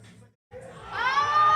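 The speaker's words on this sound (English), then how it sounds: "The crowd is going crazy for him." Crowd at a USAPL powerlifting meet roaring and cheering for a lifter's 623-pound squat, a brief lull then a loud swell of yells and whoops that builds and holds close and strong.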